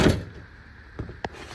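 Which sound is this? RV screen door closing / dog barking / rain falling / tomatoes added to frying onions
RV screen door closing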